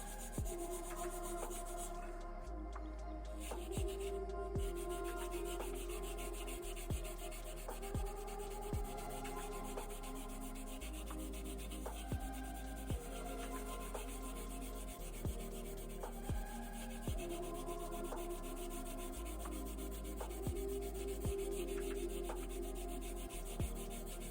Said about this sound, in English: Now we're gonna use the magic eraser and we're gonna clean the pins.